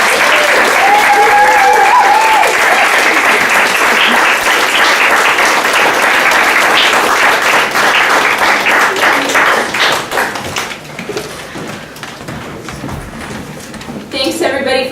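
An audience at a university poetry reading breaks into sustained applause, with many hands clapping loudly and continuously for about ten seconds before tapering off into scattered claps and quieter room noise.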